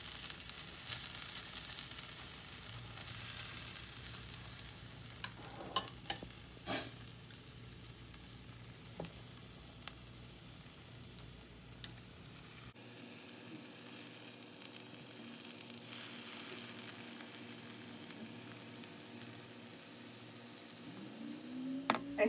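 Sooji (semolina) cheela batter sizzles steadily in a hot pan, a soft continuous hiss with occasional brief crackles, no talking throughout.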